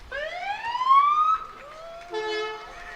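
Police car siren from the escort leading a Syttende Mai parade in Madison, Wisconsin, a clear rising wail followed by a shorter yelp, close and loud over light outdoor background.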